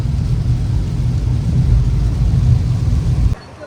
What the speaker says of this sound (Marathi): भरपूर असा पाऊस आहे मुंबईमध्ये आत्ता